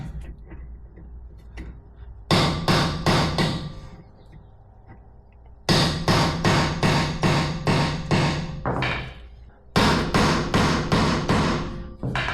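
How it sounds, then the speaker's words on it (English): Three bursts of rapid metallic hammer taps on a socket extension while loosening a rear brake part on a 2005-2012 Acura RL, each a quick run of sharp strikes, close and loud, separated by brief pauses with a low hum underneath. "now I'm gonna go ahead and tap it with this hammer"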